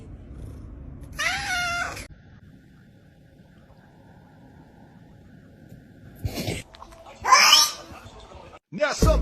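A cat gives a loud, drawn-out meow, then after a quiet stretch lets out several sharp, whiny cries and yowls in quick bursts, close to the microphone with faint voices in the background.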